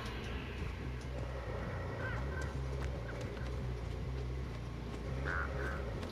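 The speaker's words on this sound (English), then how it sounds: "There's birds, man." Bird calls in the Dead by Daylight video game, a few brief chirps and squawks at moderate distance over a steady low ambient drone.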